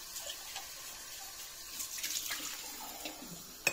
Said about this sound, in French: Je rince ma grosse tasse.